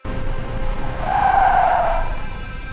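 In an animated horror short, a car drives by itself and skids: a sustained, loud tire squeal swells over a low engine rumble and then fades slightly.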